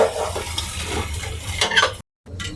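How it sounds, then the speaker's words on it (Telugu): Gongura leaves sizzle in hot oil while being stirred in a pan, with a steady close frying hiss and scraping stir strokes, then a brief gap near the end. "ఆయిల్ మంచిగా కాగిన తర్వాత అయితే అందులోకి గోంగూర వేసుకోవాలి"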